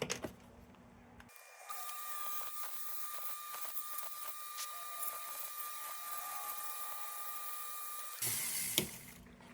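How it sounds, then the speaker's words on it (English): A cutting wheel used as a grinder files down a part of a Rayo No. 78 lantern during restoration, a steady high-pitched whirring grind that runs for several seconds between quieter stretches. "I will use this cutting wheel as a grinder."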